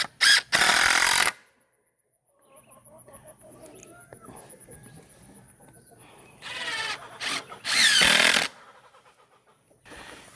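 A power drill drives screws into the framing of a backyard chicken run: two loud, harsh whirring bursts with a quieter stretch of faint clucking and rustling between them.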